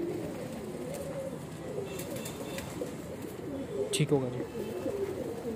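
Sialkoti and Kansani pigeons keep up a continuous low cooing, and someone talks over them with a short remark partway through.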